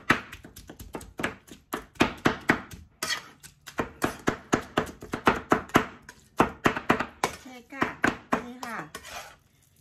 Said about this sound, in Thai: สับกุ้งค่ะ